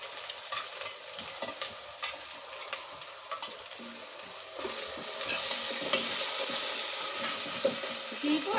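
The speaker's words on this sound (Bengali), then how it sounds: "দিব আর কষাবো।" Ground onion, garlic and ginger paste sizzles and fries in a pan for duck curry while a spoon stirs and scrapes with clinks. Partway through, the frying swells into a louder, steady hiss, with no talking.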